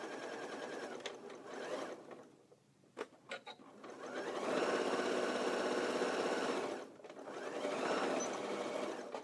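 A sewing machine runs along the edge of a flannel fringe scarf, whirring steadily in two long stitching runs broken by a short pause with a few clicks, close and fairly loud.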